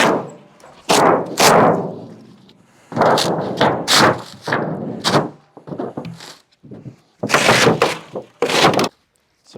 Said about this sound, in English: So it looks like we can just peel this open now.